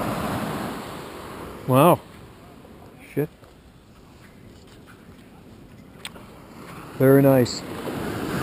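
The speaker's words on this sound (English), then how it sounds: "I love that sound, don't you? Love the sound of the waves." Pacific Ocean surf breaks on a beach in a constant wash, with a man making two short exclamations over it.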